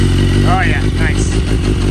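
A BMW S1000RR motorcycle engine idles while warming up, a loud, steady low rumble close by, with a voice briefly over it.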